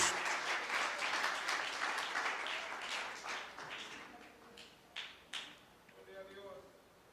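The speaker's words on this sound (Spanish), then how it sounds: "¿Por qué no le damos un aplauso fuerte al Señor Jesús?" A congregation at a Spanish-language church service applauds for Jesus, loud clapping at first that thins and fades into scattered claps, with faint voices and a few tonal sounds near the end.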